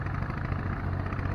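Tractor engine running during stubble plowing in a Ukrainian field, a steady low droning rumble, close and continuous, with no voices over it.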